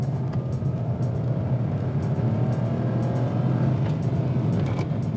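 A Nissan Magnite's small turbo engine drones steadily from inside the car, a continuous low growl with a faint whine on top and no voices.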